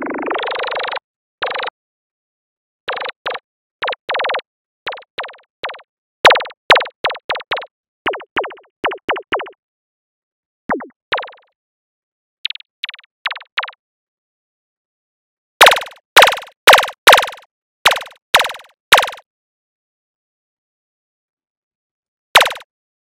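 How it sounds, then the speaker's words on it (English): Guitar pedals with an auto pan effect chop a tone into techno-style hi-hat hits: short staccato bursts in irregular clusters, then a faster bright run of sharp ticks separated by silence. "I'm using this auto pan to kind of turn it into hi-hats. All right, let's get our main hi-hat."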